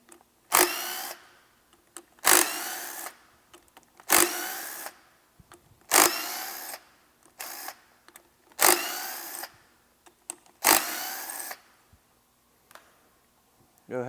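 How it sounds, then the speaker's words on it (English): Bolts holding the clutch springs on a dirt bike are removed with a power tool, giving seven loud close bursts of whirring at roughly two-second intervals with quiet gaps and faint clicks between. "Next, you'll remove the 6 bolts to hold the springs in."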